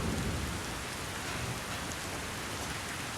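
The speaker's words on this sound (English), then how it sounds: "It's still raining." Heavy rain pours continuously with low thunder rumbling underneath, a dense, even roar of falling water without any voices.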